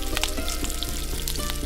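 Steady sizzling like food frying in a hot pan, a continuous crackling hiss with scattered pops, moderately loud and heard alone with no voices.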